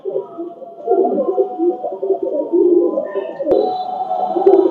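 Chinese Teddy pigeons coo steadily up close, a soft, continuous throaty burble, with a faint higher tone and a click or two near the end.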